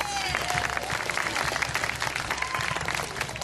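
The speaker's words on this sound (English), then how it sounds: "Give yourselves a round of applause." Crowd at a dog show applauding together, a steady wash of many hands clapping at moderate distance throughout.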